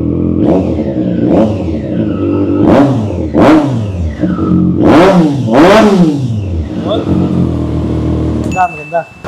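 A Triumph Daytona 660 motorcycle fitted with a carbon shorty exhaust revs hard and close in a series of about six sharp throttle blips, each rising and falling, then a short clattering sound at the end.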